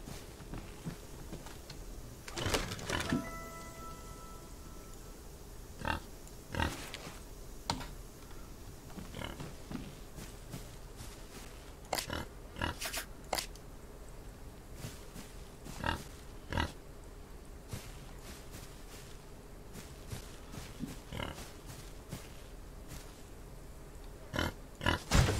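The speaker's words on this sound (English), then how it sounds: "Oh god, pigs are loud." Pigs in the Old West video game Outlaws of the Old West grunt and oink in repeated short bursts, scattered irregularly over a faint steady background.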